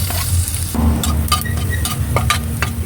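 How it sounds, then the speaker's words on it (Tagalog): Garlic is sautéed in a little oil in a reused kawali for ginisang togue. A loud, close, continuous sizzle carries repeated stirring scrapes, with no voices. "Ngayon guys ay start na tayo sa ating paggigisa."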